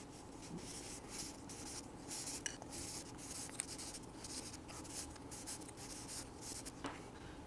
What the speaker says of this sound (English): I'll lightly sand the faces of the fins with the 400 grit paper